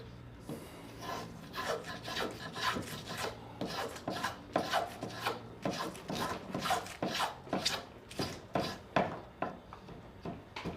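Knife shaving and paring the tip of a wooden dowel in a woodworking shop, a close series of dry scraping and rasping strokes in an uneven rhythm, steady and moderately loud with no voices.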